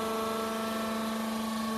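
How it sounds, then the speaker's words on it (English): A hydraulic pump running during the strip-down of a hydraulic cylinder, giving a steady, loud mechanical hum with a constant whine, unbroken and with no voices. "So what we're going to do now is start up the pump"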